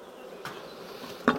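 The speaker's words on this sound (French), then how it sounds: "Et je vais secouer toutes les abeilles là devant." Orphaned honeybees being shaken from a hive into a small nucleus box buzz steadily and softly close by, with a few sharper bursts and no talking.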